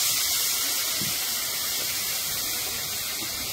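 Water poured into spices frying with turmeric in a cooking pot, giving a steady, loud broadband sizzle and hiss that holds evenly throughout.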